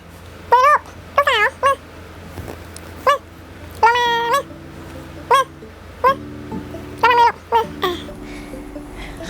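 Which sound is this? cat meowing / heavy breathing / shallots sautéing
cat meowing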